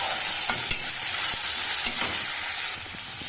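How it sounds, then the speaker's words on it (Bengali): Chopped tomato is added to onion frying in oil in a pan, with a continuous sizzle and hiss broken by irregular scraping and stirring knocks from a spatula. "এবারে আমি কেটে রাখা টমেটোটা দিয়ে দেব।"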